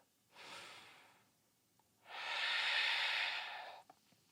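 Two audible breaths during a vinyasa yoga flow: a softer short breath, then a longer, louder airy exhale after a pause, close and alone without talk.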